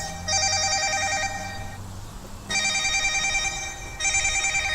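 A telephone rings in a quiet indoor room, two long bursts of bright electronic trilling separated by a brief pause, loud and close, with a third burst starting at the end.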